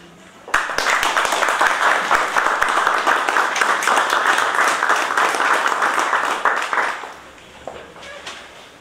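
An audience in a hall breaks into sustained applause, a dense wash of clapping that lasts several seconds before tapering off into a few scattered claps and faint room noise.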